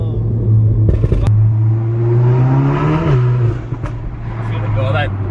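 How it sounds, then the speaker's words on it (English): A stage 2 modified Volkswagen Golf R revs loudly at close range, the exhaust crackling and popping in short bursts as the engine note climbs and falls. People talk over the engine. "every time it pops, you can feel it. Because the exhaust is right under you"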